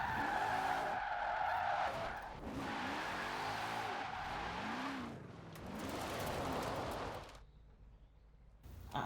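A Hot Wheels Nash car drifting in Forza Horizon 4 gives long wavering tire squeals over a revving engine, close and fairly loud, with the squeal dropping out near the end before the engine surges again.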